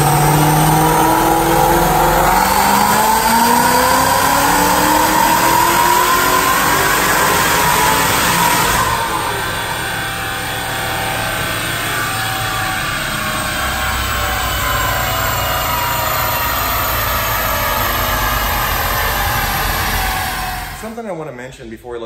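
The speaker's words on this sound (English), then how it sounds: "So now what we're going to do is we're going to make a dyno pull" Supercharged 2016 Roush RS3 Mustang engine on a dyno pull, a loud sustained roar climbing steadily in pitch as revs rise with supercharger whine, then easing off before the engine drops away near the end.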